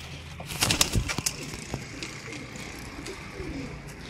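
Sialkoti black-faced pigeons, pure breed, coo and stir close by, with a burst of calls and wing flutters early on, then softer intermittent cooing over a faint background hum.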